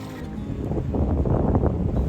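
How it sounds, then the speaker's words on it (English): Strong outdoor wind buffets the microphone in a continuous low roar that swells and gusts, loud and close, with no voices present. "the wind has picked up considerably today and it's blowing pretty hard"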